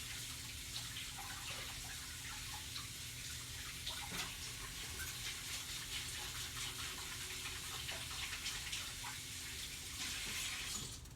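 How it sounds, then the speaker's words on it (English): Hands being washed under a running kitchen tap while preparing seafood cornbread dressing, a steady faint gush of water with light splashing throughout. "Let's wash my hands."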